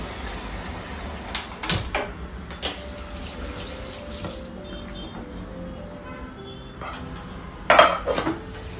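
In a home kitchen, a pot of pods is set on the stove to boil, with a few sharp metallic clanks and clatters of cookware over faint running water and quiet background rustling.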